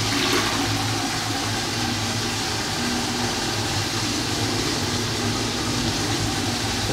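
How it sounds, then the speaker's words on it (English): A toilet flushes in a German highway restroom with stainless steel fittings, a loud, steady rushing of water that fills the whole stretch without pause, close and uninterrupted. "The flush."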